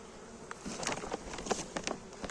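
Honeybees buzzing at an open hive during a nectar flow, a faint hum with brief clicks and rustles of frames, close and quiet with no talk.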